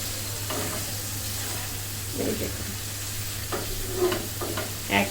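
Hilsa fish in mustard sauce cooks in a pan over medium heat, giving a steady low sizzle with a few scraping stirs of a spoon, fairly close and without talk.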